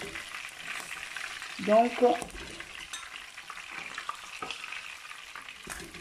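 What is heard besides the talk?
chicken browning in a pan for poulet yassa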